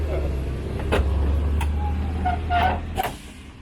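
Low, steady idle of a Volkswagen bus with a 2165 engine and dual Webers, rumbling close under several faint clicks and brief higher tones, with people talking nearby.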